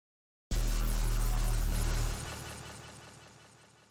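Layered synth sub bass, distorted with multi-band compression, OTT and a clipper, side-chained and blended with a color bass for extra harmonics; a heavy, loud low-end hit opens sharply and sustains before decaying, with no talking.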